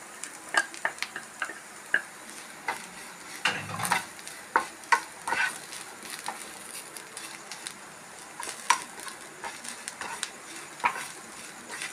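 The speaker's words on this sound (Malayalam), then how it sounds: "നമ്മൾ വെച്ച നാളികേരം അതുപോലെ വേപ്പില കോൽപ്പുളി നന്നായി ഫ്രൈ ആയിട്ടുണ്ട്" Grated coconut, curry leaves and Malabar tamarind dry-frying in a pan for garlic chutney powder, with frequent scraping spatula strokes and light clicks over a faint sizzle, close and uneven in rhythm.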